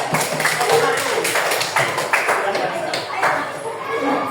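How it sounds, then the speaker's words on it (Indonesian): A classroom of students applauds a group, a dense patter of many hands clapping steadily at close range for several seconds with a few sharper taps standing out. "Beri tepuk tangan untuk kelompok 2."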